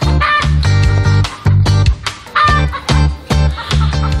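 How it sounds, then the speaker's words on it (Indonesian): A chicken clucks in a garden beside a Betawi eatery, giving loud, close bursts of rapid clucks separated by short pauses, with no talking. "Tuh ada suara ayam lagi petok-petok-petok"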